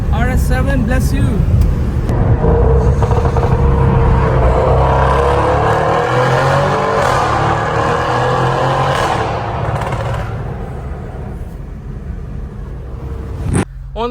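Audi RS7 with a 560 hp V8 on city streets in China, its engine roaring steadily and loud for most of the stretch before easing off, with a brief sharp burst near the end.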